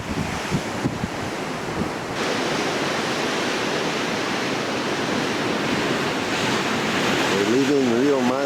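Waves of the wind-blown Mediterranean Sea wash steadily along the coast near Riomaggiore, with a constant roar of surf and gusty wind buffeting the microphone, and a faint voice appears briefly near the end.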